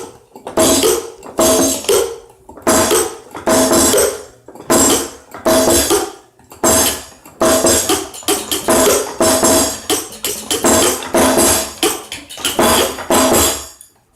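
A homemade portable drum set is struck in rhythmic bursts of loud, clattery, metallic-sounding hits, grouped in quick runs with short pauses between, played close and with no talking.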